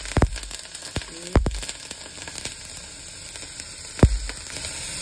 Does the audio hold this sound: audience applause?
no